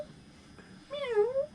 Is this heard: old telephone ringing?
no